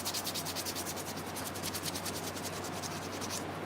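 Steady rhythmic rubbing of sandpaper over a handmade briar pipe, close and continuous, with even back-and-forth strokes repeating throughout.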